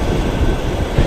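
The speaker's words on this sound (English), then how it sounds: "The trip from Kazan railway station in Moscow towards the east starts at kilometer 0." Trans-Siberian train pulling out of Kazan railway station in Moscow, a steady low rumbling roll with no voices over it.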